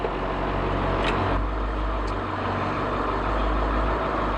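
A passenger bus engine works in gear against the held parking brake, giving a loud, steady, close low drone with a couple of brief high hisses early on and no voices.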